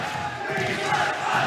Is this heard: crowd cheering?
yes